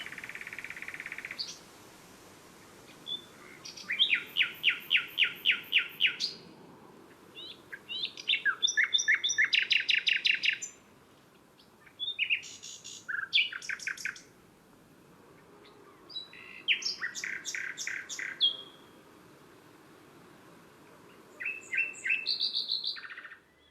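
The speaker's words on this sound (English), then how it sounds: "the best time to hear a nightingale sing is at night" Nightingale singing in bursts of rich, varied phrases with clear pauses between them, fairly close and alone over quiet background hiss.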